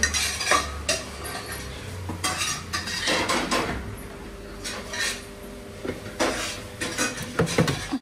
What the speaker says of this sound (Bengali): দইটাও ফেটিয়ে নিই